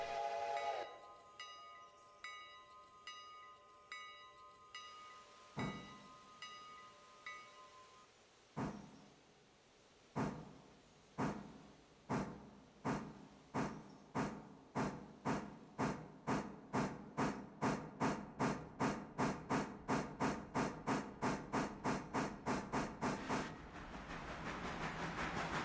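A steam locomotive pulls away alongside a diesel, its exhaust chuffs starting slow and spaced, then quickening into a rapid, even beat, loud and close, with whistle tones early on.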